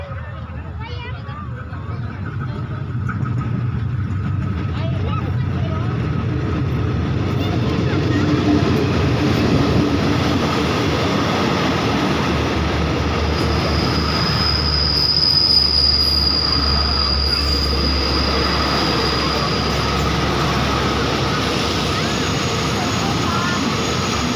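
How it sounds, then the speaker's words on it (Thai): A passenger train pulls into the platform at Nasan station in Thailand, a steady loud rumble of wheels and cars with squealing rails building and holding as it rolls in, while a female announcement plays over the noise. "โปรดระมัดระวังอันตรายจากขบวนรถที่จะเข้าเทียบชานชราที่หนึ่งด้วยค่ะ"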